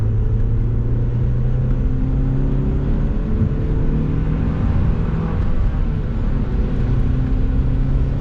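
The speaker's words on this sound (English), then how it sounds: "the turbo sounds absolutely amazing, and I'm gonna try and accelerate a bit" An MG ZT 160 with a 1.8 turbo engine and small modifications accelerates, a continuous interior drone of engine and road noise with rising tones over several seconds, no talking.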